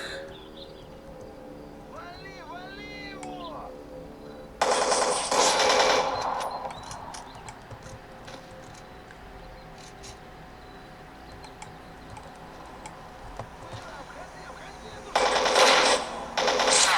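Gunfire in the video game Anomaly, playing as a Recon Scout with a Krinkov: two loud broadband bursts of rapid shots, one around the middle and one near the end, separated by quieter ambient game sound with faint chirps early on.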